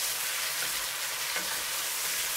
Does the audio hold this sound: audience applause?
no